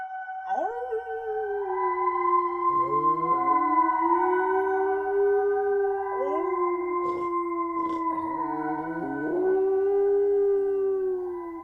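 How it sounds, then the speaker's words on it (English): Several dogs howl together in long, overlapping wavering tones, rising and falling in a mournful chorus that continues throughout. "Outside, hounds bayed, adding to the rain and wind chorus."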